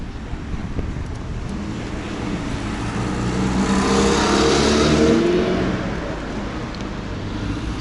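Car engine driving uphill on a cold, windy, rainy day in May, a steady broadband rumble that swells and rises in pitch mid-way, then settles again, with wind noise and no talking.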